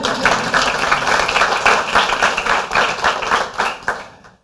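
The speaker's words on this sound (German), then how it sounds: "dafür hat er sich einen kleinen Applaus verdient" Audience applause at a presentation event for funded free-knowledge fellowship projects, a dense run of clapping lasting about four seconds before quickly dying away, close and fairly loud.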